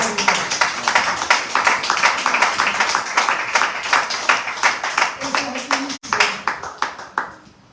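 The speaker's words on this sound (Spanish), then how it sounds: "El aplauso al Señor." Steady clapping from a church congregation, brisk and continuous for several seconds, then thinning out into scattered claps near the end.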